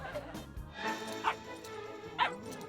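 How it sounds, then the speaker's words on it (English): Playful puppies yip and bark on a film set, a few short high yelps and whimpers, moderately close, over a quiet background. "The puppies are playing again."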